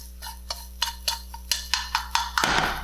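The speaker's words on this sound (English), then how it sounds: "I'm doing a bit of verticality with my stirring." Crab fried rice is stirred in a pan, giving a close series of sharp spatula clicks and taps on the metal that ends in a burst of sizzle, over a steady low hum.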